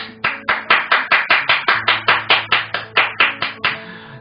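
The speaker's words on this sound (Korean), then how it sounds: "여러분 모두 박수 한번 주세요." Rhythmic clapping from a lecture audience after an economics talk, steady repeated claps at an even pace, fairly close and loud, with no talk over it.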